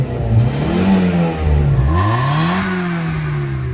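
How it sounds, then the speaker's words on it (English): A Mazda Miata's 4-cylinder engine revs up close, pitch climbing, dipping briefly with a gear change, then rising again in a steady, eager acceleration. "an eager 4-cylinder engine that loves to zoom"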